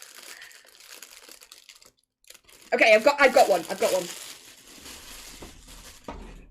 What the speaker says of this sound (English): I'm rustling in my bag. Sorry, it's loud.